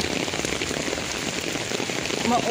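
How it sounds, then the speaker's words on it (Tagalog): Heavy rain pours down in a steady, dense hiss of drops on surfaces, loud and continuous throughout, with a faint voice briefly audible under it. "Ulan jud siya kaayo guys."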